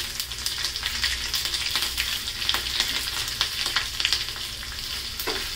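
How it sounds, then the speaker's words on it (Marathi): Cumin seeds and chillies sizzle and crackle in hot oil in a kadai for a tempering, a dense, busy frying hiss with scattered pops, close up and without speech. "तेल छान गरम झालेलं आहे, त्याच्यामध्ये जिरे टाकते आणि ह्या मिरच्या"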